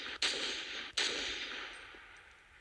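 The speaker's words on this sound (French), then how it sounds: "Le mec, il tire au shotgun." Two loud shotgun blasts about a second apart in the video game Rules of Survival, each followed by a long, slowly fading noisy tail, with no voices over them.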